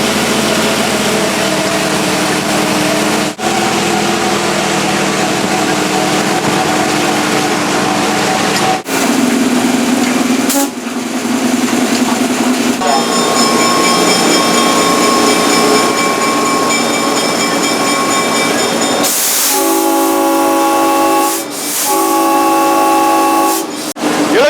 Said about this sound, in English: I'm in the Locomotive Oahu 302. We're taking off